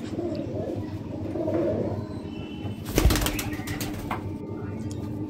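A female Madrasi pigeon in a home loft gives low, soft coos up close, with a brief burst of wing flapping midway through.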